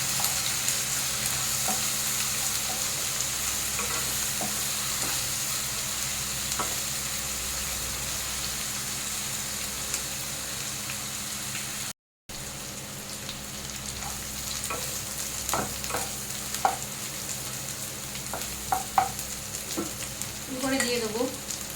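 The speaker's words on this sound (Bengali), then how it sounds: "এবার এর মধ্যে দিয়ে দেবো 1 চামচ রসুন বাটা, 1 চামচ আদা কাঁচা লঙ্কা বাটা, ভালো করে একটু ভেজে নিতে হবে।" Garlic paste, ginger and green chili paste fry in oil in a pan while cooking a Bengali stingray curry, giving a steady close sizzle with occasional stirring scrapes and clinks toward the end.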